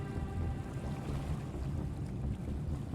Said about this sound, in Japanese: モーターボートでしょ。